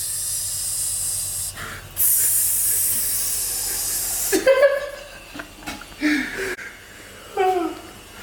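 Onions hit a hot pan with a loud steady sizzle that drops away and flares again, while people talk and laugh over it in a home kitchen.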